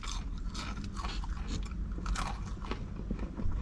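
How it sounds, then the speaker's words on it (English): Someone chews thick, crunchy breaded fried chicken from a drive-thru, close to the ear, with dense crackling crunches and scraping bites at a steady, continuous pace and no talking. "That breading is so thick and crunchy that it's all I'm tasting."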